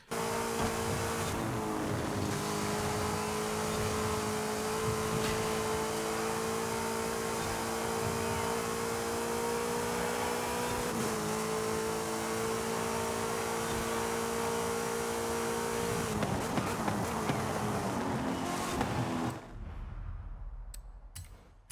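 Race car engines in the Forza Horizon 5 driving game, a Jaguar among them, hold a loud sustained whine that shifts pitch slightly, then cut off abruptly near the end.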